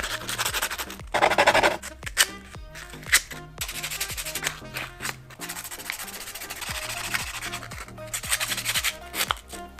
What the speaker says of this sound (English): I'm going to sand down these pieces of metal because they will oxidize faster